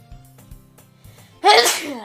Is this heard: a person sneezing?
yes